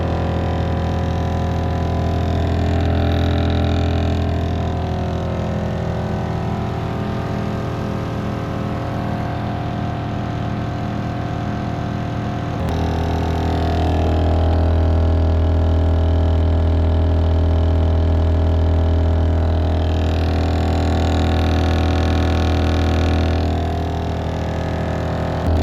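A Thor's Lightning onboard air compressor hums steadily while inflating four 38-inch tires on a Jeep JL, a continuous loud mechanical drone with a brief shift in tone midway.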